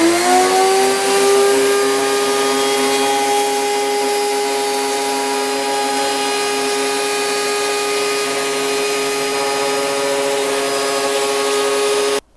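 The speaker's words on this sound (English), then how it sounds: "So let's do another pass on the other side with dust extraction." Lumberjack RT1500 router table making a cutting pass with a dust extractor running, a loud continuous motor whine holding a steady pitch for the whole stretch before cutting off abruptly at the end.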